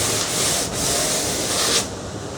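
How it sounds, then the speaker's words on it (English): Sandpaper rubs along the rail of a surfboard in steady, close strokes, a continuous scratchy rasp with slight surges and a short pause near the end, heard alone. "And we'll sand both the rails."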